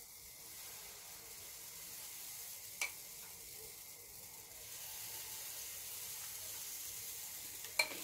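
Apple pancakes frying in a pan give off a steady, faint broadband sizzle that runs unbroken. Two brief sharper ticks stand out near the middle and near the end.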